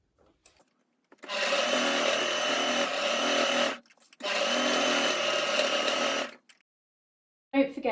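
A sewing machine stitches a fidget quilt sensory blanket with ribbons. It runs in two sustained, even bursts of a few seconds each, separated by a brief pause, with a short clatter at the end.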